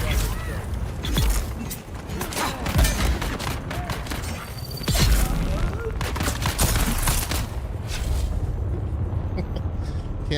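Gunfire in the Dune Awakening video game, dense bursts of shots and crackling fire continuing throughout under a busy mix of battle noise, fairly loud and close.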